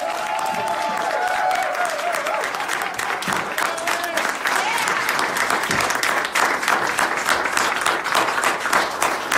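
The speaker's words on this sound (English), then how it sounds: "I want a round of applause for Dennis Hof." Crowd at an outdoor political rally applauds continuously, a loud, sustained wash of clapping and cheering with brief voices and a short whistle-like tone mixed in.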